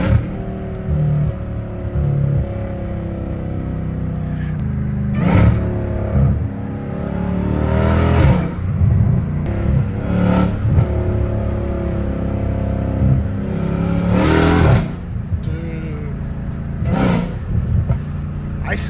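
Catless Dodge Challenger Hellcat Redeye engine revving loudly at night, with repeated sharp throttle blips and rising roars over a deep rumbling idle, heard from inside the car.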